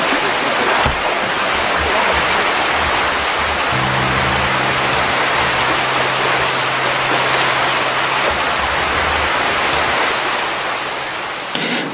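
Steady, heavy rain pours continuously, a dense hiss of water falling on surfaces, loud and close throughout with no voices.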